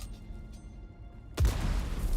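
A booby-trap explosion in the video game Dune Awakening: quiet ambience, then one sudden loud boom with a heavy low thump, followed by a sustained rumbling blast wash to the end.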